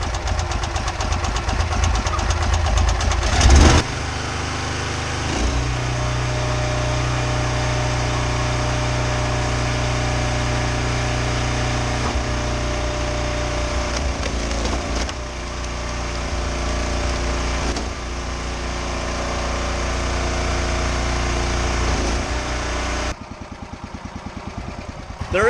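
Wolfe Ridge PRO28C commercial log splitter engine running steadily and loud as it pushes a log through the wedge, the tone dipping briefly under load partway through before the engine cuts near the end.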